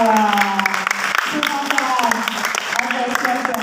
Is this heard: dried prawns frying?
no